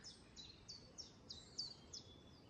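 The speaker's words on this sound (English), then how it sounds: "There's a chiff-chaff." A chiffchaff sings outdoors in Ventnor on the Isle of Wight, a faint, distant run of short high chirps repeated about every third of a second over steady background hiss.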